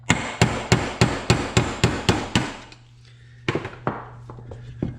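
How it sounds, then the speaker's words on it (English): A hammer drives out a part from a Kawasaki KFX 450R ATV using a socket as a drift. Nine sharp, evenly spaced metallic strikes are followed by a pause and a few lighter, scattered taps, all close and loud. "Now this one here, I can tap out with a socket because I have plenty of room."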